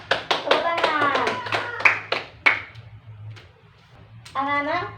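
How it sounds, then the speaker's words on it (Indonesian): Children clap their hands in a classroom, a few sharp claps scattered among loud overlapping young voices and chatter, with a brief lull before voices return. "Tepuk tangan."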